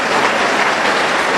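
A church congregation at a Pentecostal service in Huancayo applauds loudly and steadily, a dense wash of many hands clapping at once, close and continuous with no voices over it.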